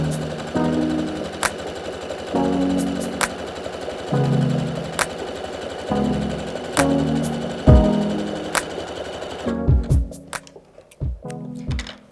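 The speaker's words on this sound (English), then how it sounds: "we're ready to start sewing. I'm going to use a zigzag stitch" A home sewing machine stitches a stretch zigzag side seam on a Kezia top, running in repeated short bursts with pauses between, close and fairly loud, ending in a few clicks and handling noises.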